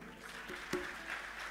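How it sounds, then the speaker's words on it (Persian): An audience at a music school concert claps in a brief, faint, steady wash of applause that sounds distant, with no voices over it. "خب خودتون رو یه تشویق بکنید"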